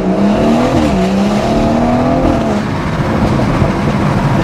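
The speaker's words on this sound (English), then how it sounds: "It will drastically change the sound of your car if you have the OPF, that is." Loud BMW M140i exhaust fitted with an OPF delete and a Cobra Sport downpipe, a steady deep drone with rising and falling revs and rasping tone, held continuously close by with no talk.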